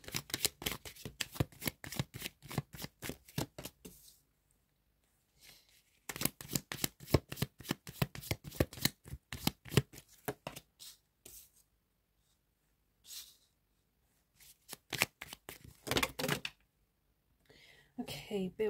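Tarot cards are shuffled close up in quick riffling runs, broken by short pauses, with soft speech in between.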